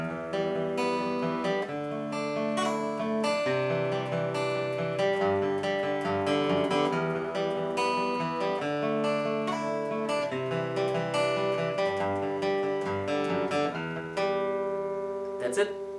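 Acoustic guitar playing a solo with picking, a steady run of plucked melody notes over ringing chords, fairly quiet and continuous for the whole stretch.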